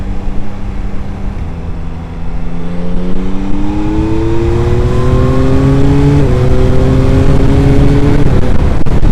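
Yamaha MT-09 motorcycle engine accelerating onto a motorway, loud and close, its pitch climbing steadily through the gears with a quick shift and rising again, under steady wind rush.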